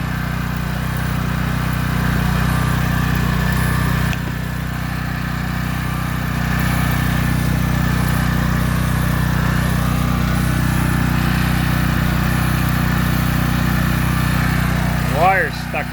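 A welder machine runs with a steady, loud, droning hum throughout, carrying a low engine-like tone, with a few faint clicks near the end.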